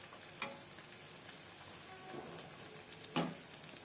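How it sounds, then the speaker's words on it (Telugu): Aloo bajji, potato fritters, frying slowly in hot oil, giving a soft continuous sizzle with a few brief louder crackles and pops, heard close and alone. "మనం ఇలా మెల్లగా ఇలా ఫ్రై చేసుకోవాలండి."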